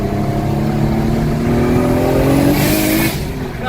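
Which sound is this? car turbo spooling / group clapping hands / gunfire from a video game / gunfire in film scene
car turbo spooling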